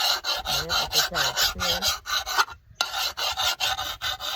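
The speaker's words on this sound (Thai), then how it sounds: "เพิ่มความคมให้จอบก่อนครับ" A hoe blade being sharpened with steady, rhythmic rasping strokes, loud and close, continuing for several seconds with one brief pause.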